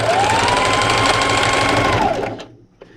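A sewing machine stitches quilting fabric at a fast, even hum, running steadily and close for a couple of seconds before slowing and stopping, followed by a faint click.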